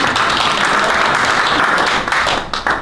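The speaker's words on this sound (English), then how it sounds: "we create a huge round of applause for Jen" A seminar audience at a life coaching session gives a volunteer a loud, dense round of applause that stays full and close before thinning slightly at the end.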